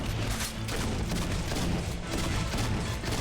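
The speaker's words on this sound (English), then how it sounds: "Let's use grenade launcher a bit." A grenade launcher firing repeatedly in modded Doom 2, a dense, continuous barrage of booming blasts and explosions with no pause, loud and close.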